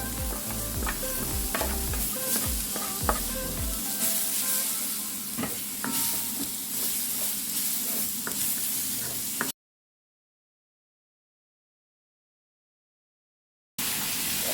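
Ginger tossed into a pan with tomato and shrimp for a coconut-milk dish sizzles steadily while being stirred, with clanks of a utensil up close, then a few seconds of total silence before frying resumes.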